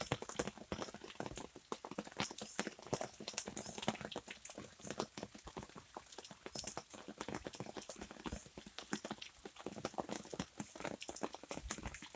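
Steady rain patters densely on a surface throughout, with many close, crisp drops in an even, continuous rush.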